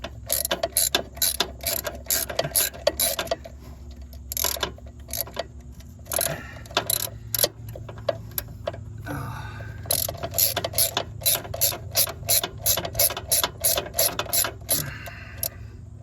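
A ratchet wrench turns a bolt on the alternator of a 2007 PT Cruiser, giving steady runs of close, crisp clicking with brief pauses between strokes.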